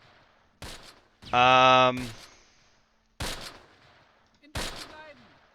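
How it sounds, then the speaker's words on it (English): P-38 fighter strafing in the World War II game Close Combat: three sharp separate bursts of gunfire, spaced apart over a quiet background, with a voice speaking briefly between them. "P-38's only gun run, like no rockets or anything like that"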